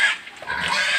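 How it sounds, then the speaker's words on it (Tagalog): Young piglets in a backyard pen grunt and squeal in a brief, close, busy burst, several animals overlapping without a pause. "Ito po yung mga alaga ko, mga biik noon mga idol"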